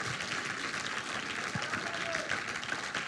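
A church congregation claps and cheers in praise, with sustained dense applause and voices filling the room throughout.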